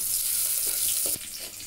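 Finely chopped onion sautéing in a little oil, a close, steady sizzle with a brief stirring scrape near the end.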